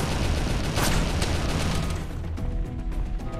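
Gunfire rattles through a sci-fi containment-facility roleplay game, a dense burst of rapid shots and booming impacts that fades after a couple of seconds into quieter background sound.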